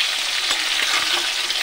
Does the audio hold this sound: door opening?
no